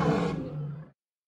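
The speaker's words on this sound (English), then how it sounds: "L is for lion, l l lion." A single loud, close lion roar swells and rumbles for nearly a second before cutting off abruptly into silence.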